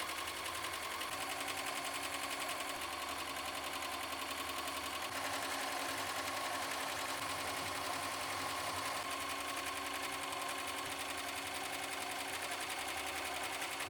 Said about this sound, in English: we're going to place the hoop in your embroidery machine and run the design.